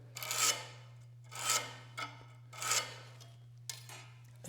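A scriber drawn along a rule scratches a sharp line into metal for a shop press bender attachment, four bright rasping strokes of about half a second each, evenly spaced and close, over a steady low hum with no talk.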